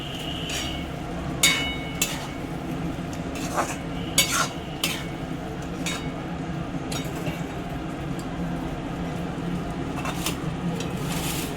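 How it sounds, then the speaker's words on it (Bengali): Pointed gourd is added to a pan of rice and stirred, bringing irregular scraping and clinking of a utensil over a low, continuous sizzle. "এবার পটলগুলি দিয়ে দিলাম।"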